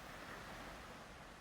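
Gentle seaside waves lap against a sandy shore in a steady, soft wash of surf, with light wind noise over the beach.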